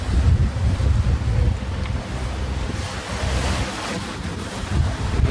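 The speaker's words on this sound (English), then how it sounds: "quite big waves here at the moment. Oh, it's swell actually." Wind buffets a microphone while sea swell rolls and splashes against a moving boat near Fitzalan Pass, Australia, a loud continuous rushing wash with surging peaks, no voices.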